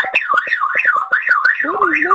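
A glass-break alarm sounds inside a house, loud and close, with a rapidly warbling electronic siren that repeats in quick pulses and then shifts to a lower sweeping tone near the end.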